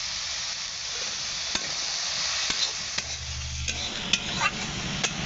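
Vegetables seasoned with salt, turmeric and a little chili powder are stirred in a frying pan, a steady sizzle broken by a few sharp utensil scrapes and clinks, with a lower bubbling hiss joining near the end.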